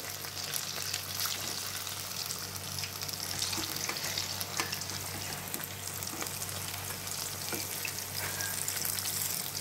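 Banana fritters (etheka appam), a traditional Kerala tea-time snack, frying in hot oil, a dense steady sizzle and crackle that carries on throughout with faint stirring and no voices.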